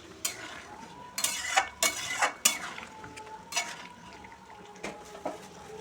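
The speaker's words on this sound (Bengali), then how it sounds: "ভালো করে নেড়ে দেব।" A spoon or ladle scrapes and clinks against a cooking pot while moong dal with a katla fish head is stirred, giving several close, uneven bursts of metallic scraping over a low simmering background.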